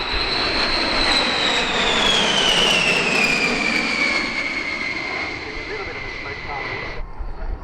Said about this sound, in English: The US Air Force B-52 crew were not cleared in for their flypast